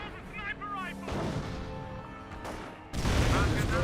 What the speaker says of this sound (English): Hotchkiss barrage.